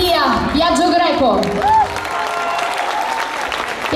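Audience applause for the drummer at an outdoor pop concert at Porta di Roma: dense clapping from a crowd, with a few shouts and cheers mixed in, continuing steadily throughout.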